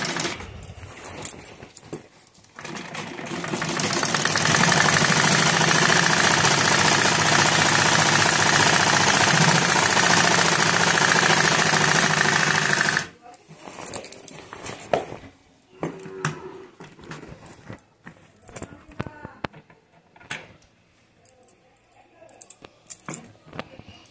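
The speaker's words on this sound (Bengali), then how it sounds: "উপর দিক থেকে এক চাপ দূরে একটা সেলাই আমি দিয়ে দিচ্ছি" An electric sewing machine stitches a petticoat seam, running in a loud steady whir for several seconds before stopping, followed by softer handling clicks and fabric rustles.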